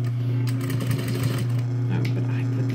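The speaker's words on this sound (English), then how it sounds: "what I'm doing here now, stitching the waistband down so that it doesn't pop open" A sewing machine runs steadily, stitching a waistband down with a continuous mechanical hum and rapid needle rhythm, close by, with some talking over it.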